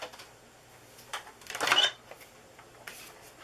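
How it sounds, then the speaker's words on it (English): A Big Shot die-cutting machine is cranked to cut a window from a panel, producing a short burst of grinding, clicking mechanical noise near the middle amid faint scattered handling sounds. "bring the big shot up here, and we're going to cut the window out"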